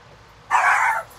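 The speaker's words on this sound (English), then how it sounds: "you're hearing the dogs bark" Dogs bark in a loud, sustained burst close by for about half a second, with a quieter background before and after.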